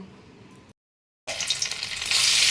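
Paneer pieces hitting hot oil for vegetarian fried rice: a brief quiet gap, then a sudden loud, dense sizzle that swells and keeps hissing steadily, close up.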